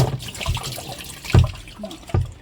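Water splashing and sloshing inside a washing machine drum as it is cleaned at home with plain water and a brush, irregular splashes with a few louder slaps, close by and without talk.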